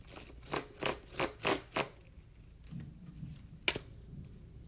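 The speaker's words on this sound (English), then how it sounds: "I'm going to fan shuffle." Tarot cards being fan shuffled: a quick run of five or six crisp riffling bursts, then a soft pause and one sharp snap, close and fairly quiet, with no talking.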